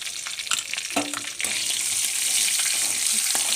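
Whole cumin and whole garam masala spices with bay leaf crackle and sizzle in hot oil, a bright steady frying hiss that swells louder midway, with a few clinks of a utensil, close up.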